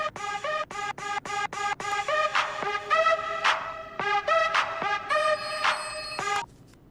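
A mobile phone rings during a Telugu film scene, a bright repeating electronic ringtone melody of quick plucked notes and sustained chimes, loud and close, playing alone for several seconds before stopping.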